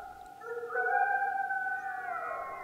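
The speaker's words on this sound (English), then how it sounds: "The haunting howl of a Mexican wolf." A lone Mexican wolf in eastern Arizona howls in a long, wavering tone that swells and slightly bends in pitch, moderately loud with no other sounds around it.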